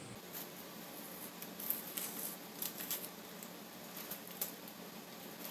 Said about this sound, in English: let's just remove the tape and see what we have working with